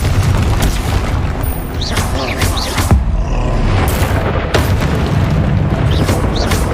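Spell explosions from Confringo in the Hogwarts Legacy video game, loud booming blasts and crackling bursts that repeat over a few seconds amid dense combat noise with whooshing spell effects.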